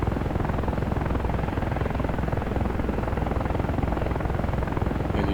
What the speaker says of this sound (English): the helicopter is rotating left